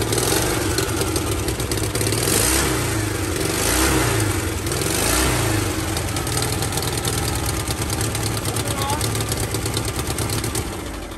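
A neglected 1985 Volkswagen Vanagon, left sitting for about 20 years, runs steadily with a rough, throbbing engine note that swells in revs, loud and close for the whole stretch.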